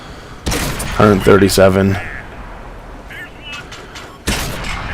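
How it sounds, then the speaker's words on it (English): Tank cannon fire is aimed at a KV-85 in the World of Tanks video game, with a heavy boom at the start and another near the end. Someone talks over the shots. "we're going to put some fire into that KV-85 now"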